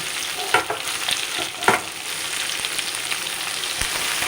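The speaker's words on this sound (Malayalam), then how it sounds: "അതിലേക്ക് രണ്ട് സവോള നീളത്തിലരിഞ്ഞത് ഇട്ട് കൊടുക്കാം" Sliced onions with ginger and garlic frying in a pan for pepper chicken roast, with a steady sizzle under a few sharp spoon scrapes and knocks, close up and no voices.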